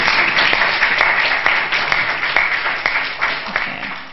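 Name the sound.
congregation applauding the speaker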